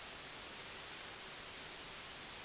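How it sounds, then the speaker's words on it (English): Steady hiss of white noise generated by an iOS audio app, a flat, unbroken static wash filling the short stretch at moderate level. "Just got some white noise."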